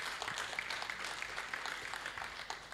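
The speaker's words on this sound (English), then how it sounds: "Please, let's clap for Collins Omondi and his delegation." Applause from an audience at a Ugandan statistics bureau event, a steady wash of many hands clapping, moderately distant and continuous with no talking over it.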